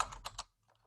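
Typing on a computer keyboard, a few soft quick keystrokes in a short burst and then near silence, faint and close.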